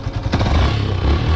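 A Yamaha FZS V2 motorcycle engine idling just after starting, a close, steady low rumble with light mechanical clatter, no voices.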